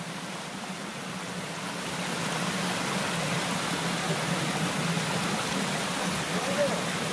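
Stream water rushing steadily at Arroyo del Naranjito on the way to a waterfall, a broad continuous wash of flowing water close by, slightly building in the first seconds and then holding even throughout.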